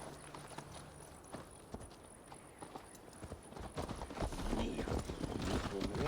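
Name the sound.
horse hooves clip-clopping while riding, from video game Assassin's Creed Valhalla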